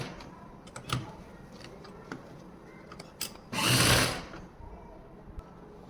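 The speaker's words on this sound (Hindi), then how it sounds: "इस पर हम 4-5 बार यहाँ से घुमा देंगे मशीन को" A sewing machine runs in short bursts while stitching elastic onto an Afghani trouser, with a few brief clicks and one longer, louder run near the end, close and otherwise quiet.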